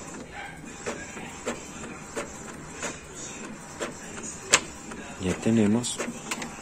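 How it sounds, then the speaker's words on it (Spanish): An Epson L3110 inkjet printer prints a page, giving a series of short mechanical clicks and whirs, then a louder rising motor buzz near the end, with a person speaking briefly over it. "Aquí estamos teniendo la impresión que nosotros mandamos"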